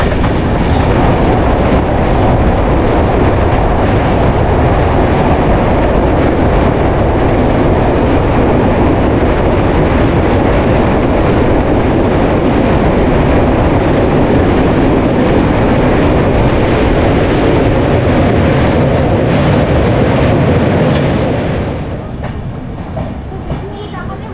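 A Dhauli Express passenger train (12821, Howrah–Puri) slows near the Kolaghat bridge, giving a loud, steady rolling rumble of wheels and carriages that holds close and constant before easing off near the end.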